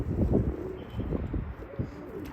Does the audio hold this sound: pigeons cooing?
yes